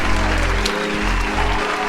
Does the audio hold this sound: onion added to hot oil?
no